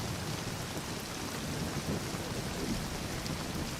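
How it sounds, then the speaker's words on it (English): A thunderstorm pours down in a dense, steady roar of heavy rain, with low thunder rumbling beneath it and no voices throughout. "Yeah, with lots of thunder and high winds."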